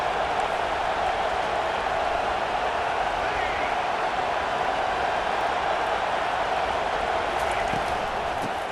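A stadium crowd in the CFB 25 college football game, Tennessee versus Georgia, roars as a steady, loud wash of noise that holds for the whole stretch with little change.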